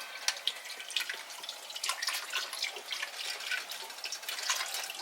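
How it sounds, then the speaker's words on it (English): Beef broth pouring into a hot Dutch oven holding a seared pot roast, a steady close splashing trickle with bubbly drips and sizzle throughout, no voices. "So now, what I like to do is I'm gonna add beef broth"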